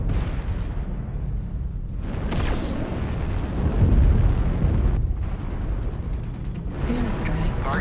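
Heavy airstrike explosions in a mech combat video game, a string of loud deep booms and rumbling blasts rolling one after another, with a synthetic voice calling out over the battle.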